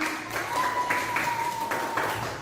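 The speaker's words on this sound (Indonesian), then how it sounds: "Sama-sama boleh tepuk tangan untuk kita semua." A classroom of students in an Indonesian school lesson clapping together in steady, dense applause that lasts about two seconds. A faint tone and some voices sit under it.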